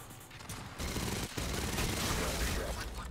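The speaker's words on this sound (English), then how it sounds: "I love how my guns are shooting his feet." Gunfire from a player's guns in a video game, a dense, loud sustained burst of shooting that swells after a quieter start and carries on without a break.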